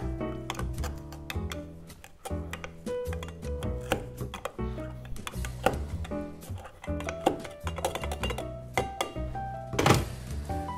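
Cucumber slices are muddled in a glass for a Southside gin cocktail, heard as a quick, uneven run of close, sharp knocks and taps that carries on steadily with no talking.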